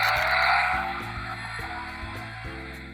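A cheap toy Tesla Model S car's electronic engine-like whine climbs and drops as it shifts through several gears, loud and close, with stepped changes in pitch every half second or so.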